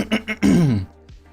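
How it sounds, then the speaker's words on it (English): A streamer coughs twice in short bursts, then clears the throat with a long, loud rasp right at the microphone after eating, followed by a faint click. "After I eat, I always have like the cough."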